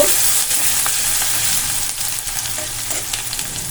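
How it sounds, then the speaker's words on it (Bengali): Peas and paneer fry in a pan over a medium gas flame, giving a loud, dense, continuous sizzle that eases slightly toward the end, with light stirring scrapes and no voices. "তো দেখো ভালো করে আমি নাড়াচাড়া করে নেব।"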